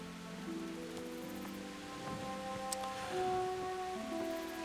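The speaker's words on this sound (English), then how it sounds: "Well, it's raining, isn't that nice?" Rain falling at night in the medieval game Kingdom Come: Deliverance, a soft steady patter spread across the scene, with faint sustained musical tones drifting beneath it.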